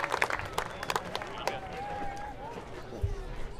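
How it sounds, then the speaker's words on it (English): Baseball game crowd applauding the team mascot Goober: scattered, fairly distant clapping mixed with crowd chatter and a brief whistle-like tone, fading into murmuring. "Let's give him a big round of applause."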